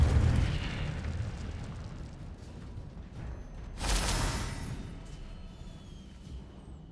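An Incendio fire spell is cast in Hogwarts Legacy, a sudden fiery whoosh that bursts out over a steady background rumble and then trails off slowly.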